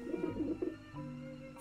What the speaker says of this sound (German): Furchtloses Taubenpack.